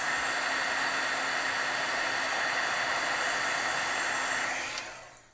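A heat tool runs steadily on foam snow paste on a handmade card, a loud, continuous airy blowing hiss that cuts off abruptly near the end and fades away.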